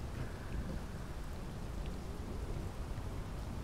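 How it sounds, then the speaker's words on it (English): Rain falls with rolling thunder in the video game Space Engineers, a steady hissing downpour over a low continuous rumble, even in level throughout with no talking. "it's a nice sunset here in the middle of the rain"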